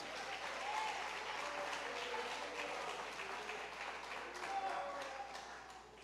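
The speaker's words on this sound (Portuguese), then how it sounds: "Quantos louvam e dão uma ofrenda de palmas a Cristo Jesus?" A church congregation applauds during a worship service: dense, sustained clapping from many hands fills the whole stretch at moderate distance, with no clear talking above it.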